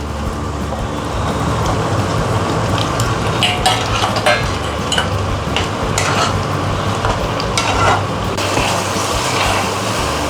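Paneer cubes stirred and frying with spinach and a little butter in a pan, a steady sizzle with scraping and clinking of a spoon against the pan throughout, close and fairly loud, no talking.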